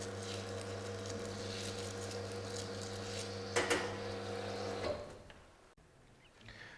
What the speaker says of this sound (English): Put the machine onto a continuous flow and scrub the group gasket.